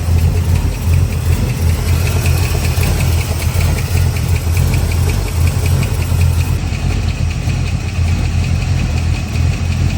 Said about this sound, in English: That sounds like a lifter.